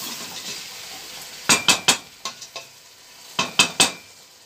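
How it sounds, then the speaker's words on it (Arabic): Chicken being stirred in a frying pan, a utensil scraping and clinking against the metal in two bursts of sharp strokes over a low, steady sizzle. "ونحرك الدجاج الفوق باش نرمي كل شيء مع بعض باش يصير هيك يسح الدجاج"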